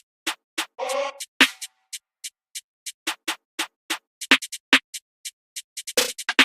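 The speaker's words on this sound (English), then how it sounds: "Then I also found this drill hi-hat." Drill hi-hat sample in FL Studio, crisp ticking hits in an uneven rolling rhythm, quick triplet-like clusters between steady taps, with one brief tonal burst early on, close and dry without talk.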